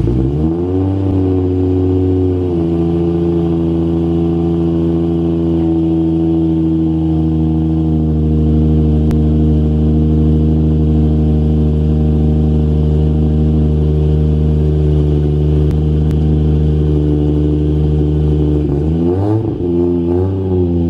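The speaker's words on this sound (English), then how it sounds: "I've got both cars out idling right now" Two cars idling together, one of them a Toyota Supra, holding a steady, loud low engine drone with even harmonics, a brief shift near the start and a slight change in pitch at the end.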